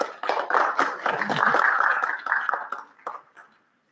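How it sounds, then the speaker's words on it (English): Audience at a Bronx community board general meeting applauds, a dense burst of many hands clapping that swells, holds steady, then thins out and stops near the end. "can we give him a round of applause?"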